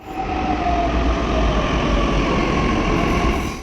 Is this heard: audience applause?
no